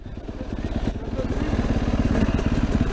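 A KTM enduro dirt bike, one of a group of 250, 300 and 450 machines on worn-out tyres, revs up nearby with a steady pulsing engine note that grows louder as it gains speed for a run-up.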